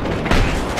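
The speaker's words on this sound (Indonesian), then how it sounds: "Dia tembak kita menggunakan sniper, kita tembak menggunakan RPG, teman-teman." An RPG launches in the video game Battlefield 3, a single short, loud burst over a dense battlefield din of mixed noise.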